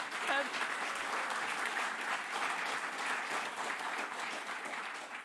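Applause at a conference symposium session comes through as a faint, even wash of clapping heard from a distance, steady throughout with a brief voice near the start.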